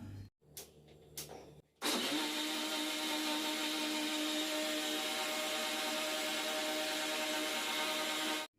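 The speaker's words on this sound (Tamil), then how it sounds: "வெண்ணெய் திரிஞ்சு வர வரைக்கும் மிக்சியில் அரைக்கணும்." An electric mixer grinder spins milk cream and ice water into butter, starting after a couple of short clicks and pulses, then a loud, steady motor whine with churning whir running nearly eight seconds before cutting off.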